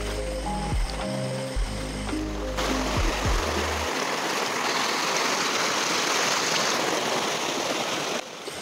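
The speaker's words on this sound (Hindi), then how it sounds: "पीडब्ल्यू रोड है ये, पूरा ख़तरनाक से पानी जा रहा है।" Floodwater surges across a PWD main road in Doboka, Assam. After a few seconds of mechanical rattling tones, a loud, steady roar of rushing water takes over and holds close and continuous.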